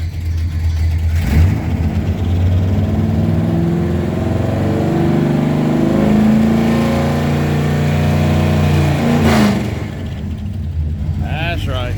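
Dodge 4x4 truck with a 360 V8 swapped in for a 318, headers, 2.5-inch exhaust and two-chamber Flowmaster mufflers, its deep engine note loud and steady with rises in revs, a voice talking over part of it.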